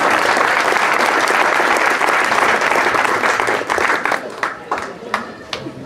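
Loud, full audience applause at an awards ceremony, sustained at first, then breaking up into sparse separate claps that fade toward the end.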